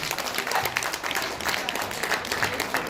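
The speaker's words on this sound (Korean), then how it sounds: "여러분 큰 박수로 축하드립니다" An audience at an award ceremony for a National Assembly member applauds loudly and steadily, dense clapping that fills the room and holds for several seconds without pause.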